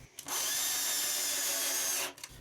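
A power drill whines at high speed for about two seconds, a steady close buzz that starts and stops abruptly.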